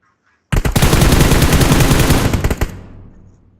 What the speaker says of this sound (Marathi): आता आपण झोपून मारतो पाहिजे